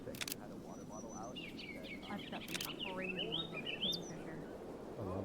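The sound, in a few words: birds chirping in video game Flock Around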